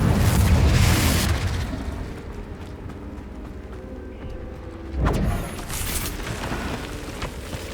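Confringo blasting spells explode in Hogwarts Legacy: a loud, deep boom opens, then a rumbling decay, and a second blast bursts about five seconds later.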